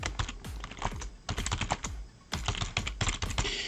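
Rapid, uneven keyboard typing, close and loud, with clustered keystroke bursts and brief pauses between them.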